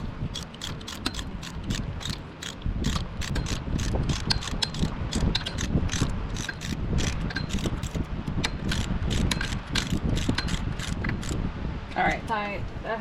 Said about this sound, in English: I will go through and torque down the alternator and the air pump bolts